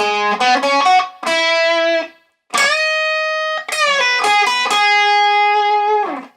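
An electric guitar plays a riff with clean, sustained picked notes and pull-offs, phrased in quick clusters separated by brief pauses and ringing long held tones.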